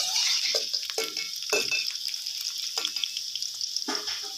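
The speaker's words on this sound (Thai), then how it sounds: "ใส่กระเทียมลงไปเจียวให้หอมนะครับ" Garlic fries in oil in a wok, sizzling steadily with bursts of crackling and a few clanks of a utensil stirring, no voices.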